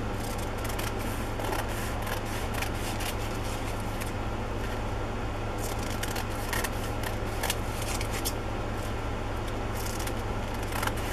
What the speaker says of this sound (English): now I'm just going to trim around the tissue